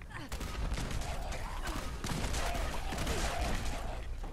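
In Fallout 76, Broadsider cannon fire comes as a rapid series of heavy booming blasts layered over game noise, with someone talking over much of it.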